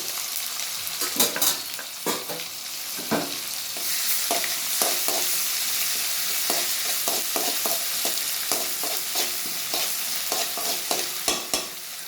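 Ginger garlic paste fries in a pan while making carrot rice, with a constant close sizzle broken by frequent scraping and clattering strokes of stirring.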